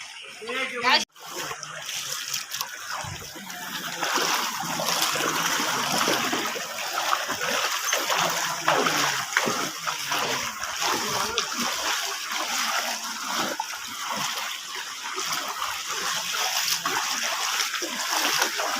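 Floodwater splashes and sloshes steadily through a village market in Talibpur, Begumganj, Noakhali, during the 2024 flood, a continuous watery wash close by with people talking.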